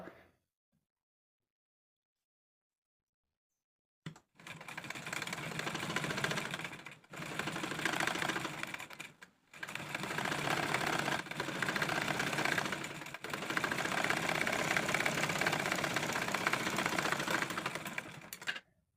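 A sewing machine runs over a folded hem on a child's dress in long, steady, close whirring runs after a silent start, with brief pauses between passes.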